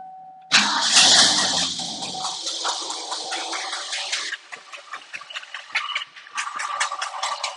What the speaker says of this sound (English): So we're just gonna start and let it idle.